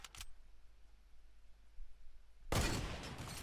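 Gunfire in Fortnite Battle Royale: one brief shot, then near silence, then a loud burst of shots with a trailing rumble at the end.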